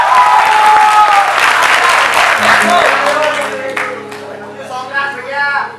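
Audience applause for a guitarist at a live song performance, a dense wash of clapping that holds loud for several seconds before thinning out, with faint voices mixed in.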